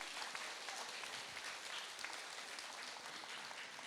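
An audience claps through a Red Cross lifelong college 30th anniversary ceremony in Gunsan as an award is given, a steady dense wash of applause from many hands, even and sustained, with no voices on top.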